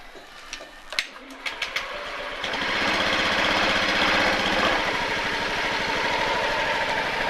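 Small engine idling as its idle speed is adjusted, starting with a few scattered clicks and taps, then settling into a steady, fairly loud mechanical drone with a fast even pulse that holds to the end.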